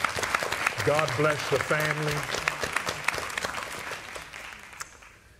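Congregation applause at a celebration of life service, a crowd clapping steadily while someone speaks over it in the middle, the clapping thinning and fading toward the end.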